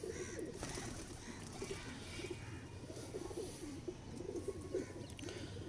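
Teddy pigeons cooing in a loft, soft low throaty coos repeating steadily throughout, close but faint, with a dense bird-call texture and no talk over them.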